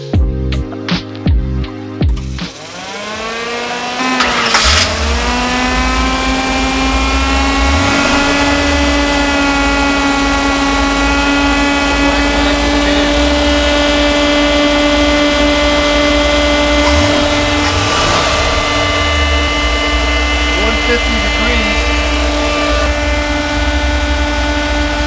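A restored 1965 Ford Econoline 3-window pickup engine with under 100 miles on it runs loud and close. After a brief rough start it settles into a steady droning idle with strong humming tones that hold evenly for over twenty seconds.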